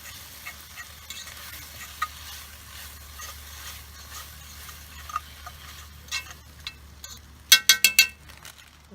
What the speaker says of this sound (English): I'm just going to stir it around and mix the cheese into it.